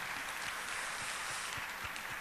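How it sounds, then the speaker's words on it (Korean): A church congregation claps together during a worship service, a steady wash of applause heard from some distance at low volume, even and unbroken throughout. "박수로 하나님께 영광 올립니다."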